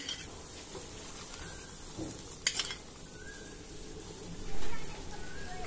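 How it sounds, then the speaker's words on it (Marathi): Paratha roasting in ghee on a hot pan gives a steady, soft sizzle throughout. A couple of light utensil clinks come midway, and a brief louder swell of frying follows near the end. "हे बघा, हा पराठा दोन्ही बाजूनी छान खमंग भाजून झाला"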